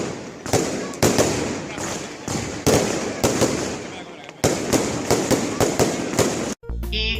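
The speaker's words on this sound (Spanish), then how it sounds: "también hay fuegos artificiales" Fireworks on the final night of Las Fallas, the Nit de la Cremà, boom and crackle in a dense, loud barrage of repeated blasts with continuous sizzling debris. The barrage cuts off near the end, and a brief voice follows.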